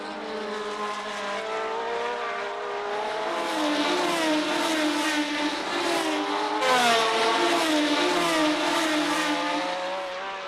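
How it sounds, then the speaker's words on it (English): Formula 1 race cars with V12 engines in 1970 scream past at Clermont-Ferrand, several high-pitched engines rising and falling in pitch as they rev, loud and continuous with overlapping passes. "Here the V12s could show all their power."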